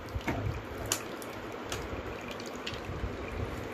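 Water flows and trickles into a tank through a PLC-controlled valve, a steady close wash of liquid with small splashy bursts and no voices.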